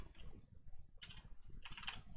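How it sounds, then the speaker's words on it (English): Computer keyboard clatters as someone types Python code, with two dense bursts of quick keystrokes over a faint low background hum, no voices. "I'm typing semicolon after semicolon"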